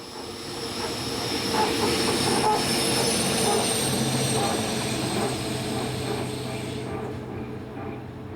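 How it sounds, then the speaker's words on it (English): French locomotive number 6554 trundles past just south of Istres, a steady close rumble of wheels and rail noise holding loud throughout before easing slightly at the end. "Number 6554, another loco set to continue, trundles past the camera just to the south of Istres on 13th October last."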